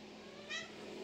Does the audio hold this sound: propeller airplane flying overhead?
no